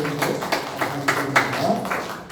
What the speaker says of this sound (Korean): 이분들 우리가 격려의 박수를 한번 하십시다